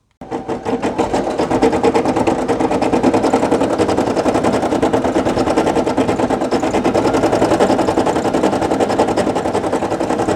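A Brother PE800 embroidery machine stitches purple thread, running with a fast, steady rhythmic chatter of needle strokes that stays loud and even from start to finish.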